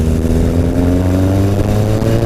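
Yamaha XS1100 cafe racer motorcycle pulling in first gear after gearbox repair, a loud close engine drone with steady harmonic tones rising slightly as it accelerates.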